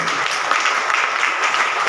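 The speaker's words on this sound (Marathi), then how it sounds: "त्या सर्वांसाठी आपल्याकडून एक टाळ्या पाहिजे" An audience at a Gandhi Jayanti cleanliness campaign event applauds for the sanitation workers, a dense, even burst of clapping from a crowd, steady throughout.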